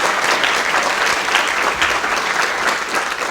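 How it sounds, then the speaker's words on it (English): An audience at a security talk featuring a former president of Estonia gives a loud, steady round of applause, dense and even throughout with no speech on top. "Please join me in a round of applause."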